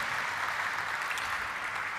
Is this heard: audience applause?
yes